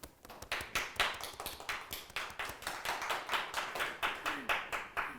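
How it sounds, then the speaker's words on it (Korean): An audience claps in a steady, rhythmic unison beat to welcome a volunteer taekwondo instructor at a launch ceremony, moderately close and continuing throughout. "우리 박서정 강사님을 우리 박수와 함께 모셔보도록 하겠습니다."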